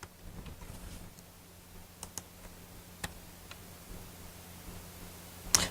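Computer keyboard typing in a quiet room, scattered soft key clicks with a few sharper taps, irregular and faint over a low steady hum.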